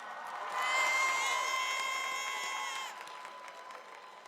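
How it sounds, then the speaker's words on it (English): A high school graduation audience bursts into applause and cheering, with whoops and shouts over clapping that swells loudly, holds, then eases off while sustained horn-like tones ring through the middle. "join me in applauding your families for all of the sacrifices that they"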